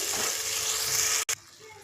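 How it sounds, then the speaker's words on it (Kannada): Ground masala paste fries in a pan for egg curry with a steady, close, hissing sizzle that briefly cuts out near the end, then resumes more softly. "ಈಗ ಇದಕ್ಕೆ ನಾವು ರುಬ್ಬಿಟ್ಕೊಂಡಿದ್ದಂಥ ಮಸಾಲೆ ಒಂದು ತರ್ಟಿ ಸೆಕೆಂಡ್ ಫ್ರೈ ಮಾಡ್ಕೊಳ್ಳಿ"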